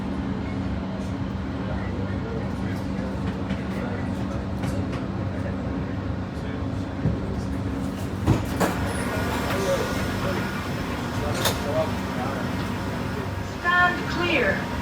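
A Doha Metro Red Line train runs between DECC and Hamad Airport, heard from the cab as a steady rail rumble with a constant hum and a few clacks and squeals, with voices throughout.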